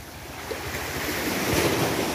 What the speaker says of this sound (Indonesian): Deburan ombak